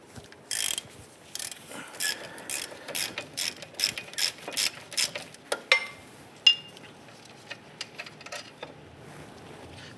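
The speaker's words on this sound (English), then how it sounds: "Using our 15mm socket, we're going to remove these two bolts." A ratchet with a 15mm socket loosens the brake caliper bracket bolts on a 1995-2001 Ford Explorer. It gives rapid bursts of sharp clicking close up, which ease into sparser clicks and a metallic clink.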